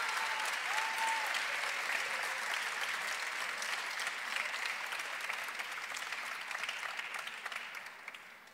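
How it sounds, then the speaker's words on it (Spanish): A graduation ceremony audience gives sustained applause for a new doctoral graduate, a broad steady roar of clapping that fills the room for several seconds before slowly fading, with a brief vocal sound early on. "Que siga este aplauso"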